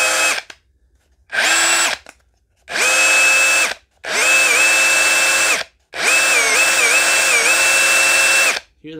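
A DeWalt DCH273 cordless SDS hammer drill with a misfiring trigger whirs in five bursts of increasing length, separated by brief silences; in the longer runs the motor pitch dips and wavers.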